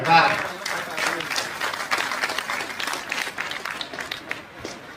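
Audience applause at a Hindi kavi sammelan poetry gathering, a dense patter of many hands clapping, loudest at the start and then holding steady before thinning slightly, with voices mixed in.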